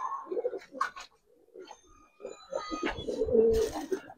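Giribaz pigeons of an old Old Dhaka breed coo close by in short, throaty bursts separated by brief gaps, with softer chirps and small rustles between the calls.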